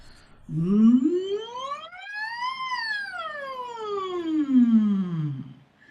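A single closed-mouth hum glides smoothly up to a high peak and back down, like a siren, alone and clear.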